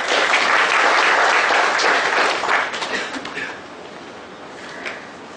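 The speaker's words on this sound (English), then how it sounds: "Huge round of applause, ladies and gentlemen." A seminar audience on GST breaks into loud, dense applause that holds for a few seconds, then thins into scattered claps and fades out.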